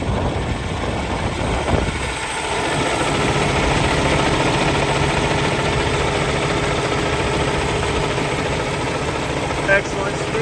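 A 2015 Peterbilt 579 day cab with an ISX Cummins engine idles warm, a steady deep diesel rumble with constant low vibration, close and even throughout, with faint background noises.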